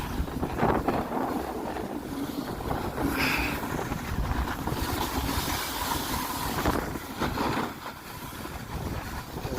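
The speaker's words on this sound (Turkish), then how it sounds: "acayip rüzgar var. Rüzgar var bakın." Strong wind on a ski slope at Erciyes Ski Center buffets the microphone in loud, roaring gusts, rising and falling continuously with a low rumble underneath.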